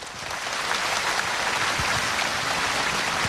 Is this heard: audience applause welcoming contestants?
yes